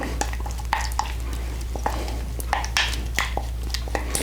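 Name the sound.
folding loose cheese into macaroni in a bowl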